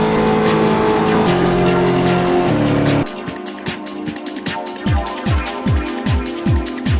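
Hennessey H700 Corvette in the Roblox game Greenville, heard first as a loud sustained engine drone, then as repeated short tire squeals under hard braking in a quick rhythmic series.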